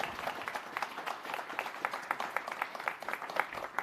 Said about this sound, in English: can we have a round of applause for the industry experts?